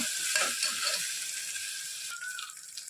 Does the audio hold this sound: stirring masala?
yes